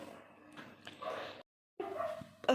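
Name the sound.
dogs barking at night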